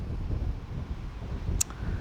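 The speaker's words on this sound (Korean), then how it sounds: "바람 소리가 아주 싱싱 소리가 요란하게 들립니다" Strong wind gusting by the sea, heard as a steady low rumbling roar of wind buffeting the microphone, with one brief sharper burst near the end and no voices.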